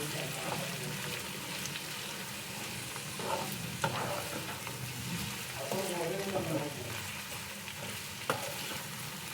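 Little gourd (tondekai) pieces frying in oil with no water added, a continuous soft sizzle with occasional stirring scrapes, fairly quiet and steady.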